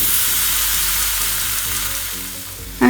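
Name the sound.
black and white sesame seeds roasting in hot pan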